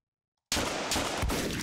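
Gunfire in the video game Deadbolt starts abruptly after a brief silence, with sustained rapid shots and a sharper crack near the end, loud and close.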